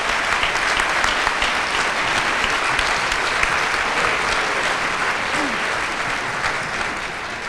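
Sustained applause from a large banquet audience at an awards dinner for 57 nominees, dense even clapping holding steady throughout and tapering slightly at the end.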